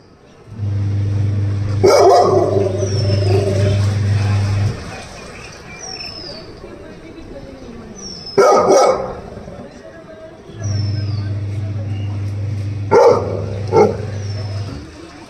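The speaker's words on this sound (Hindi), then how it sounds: "इतनी दूर से भौंक रहे हो तुम" A Labrador barks in a few loud bursts separated by pauses, close by outdoors, while a person talks over a low steady hum.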